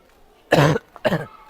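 Two separate coughs from a person with a cold, close and fairly loud, alone with no talking.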